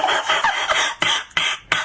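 Several short bursts of a person coughing: a quick run of coughs, then three sharper, separated ones, close to the listener with no speech.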